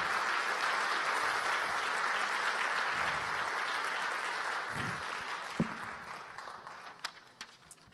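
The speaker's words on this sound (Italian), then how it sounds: "Un applauso." Applause from an audience at a business awards ceremony, a sustained dense clapping that gradually thins and fades into a few scattered claps and footsteps near the end.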